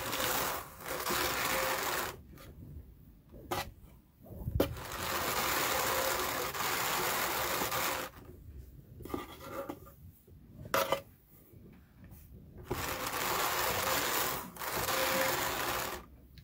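A drum carder blends angora fiber with a steady whirring and rasping hum that runs in long stretches, stopping briefly several times and then starting again.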